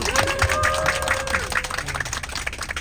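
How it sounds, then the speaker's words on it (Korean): Passengers applauding aboard a bus during a group talk session, clapping mixed with voices and tonal chatter in a cramped, lively space. "박수"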